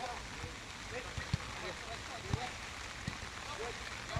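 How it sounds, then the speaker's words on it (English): Rain falls steadily during an early morning football practice outdoors, a constant wash of patter with occasional louder drops and soft knocks, while people talk nearby. "in the rain"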